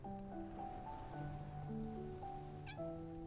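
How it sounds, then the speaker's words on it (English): A kitten in the video game Love and Deepspace gives a few quiet meows over a steady tonal music bed, faint and close. "It's the kitten from before."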